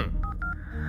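A telephone number being dialed as a short run of about four quick electronic keypad tones in an uneven rhythm, faint and close, with no talking.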